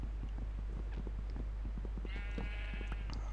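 Sheep bleating in Minecraft with the Tekkit modpack, a drawn-out wavering game bleat rising over a steady hum and scattered clicking sounds.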